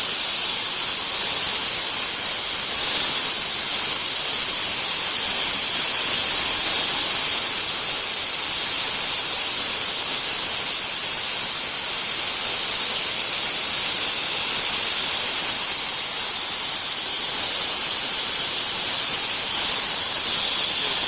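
Propane gas rushes steadily through a hose from a bleeder tank into a tractor's fuel tank, a loud, continuous hissing roar that holds unbroken for the whole stretch with no voices.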